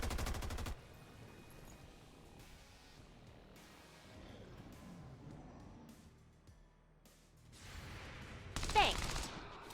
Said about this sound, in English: I think we should just start shooting the objective here.